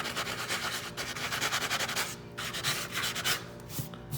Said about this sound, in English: So just sand it the best you can.